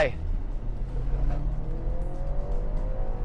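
A BMW 330e LCI plug-in hybrid revs up and pulls away, its engine pitch climbing steadily over a few seconds, with faint voices in the background.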